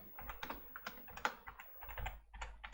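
Typing on a computer keyboard, quick irregular clicks of keys in short bursts, close and fairly faint, with no talking.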